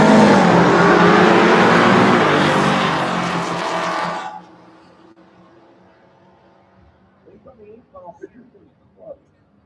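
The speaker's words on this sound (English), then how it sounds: "that's the Camaro right-hand side with the LS swap on board" A Camaro drag car with an LS engine swap roars loudly down the strip at a Turn & Burn race event, the engine blaring for about four seconds before fading away, leaving distant crowd noise and faint announcer talk.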